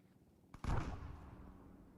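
A frag grenade goes off in Arma 3 during a team firefight, a single sudden blast that swells and then decays into a low rumbling tail, heard at moderate distance under quiet background game ambience.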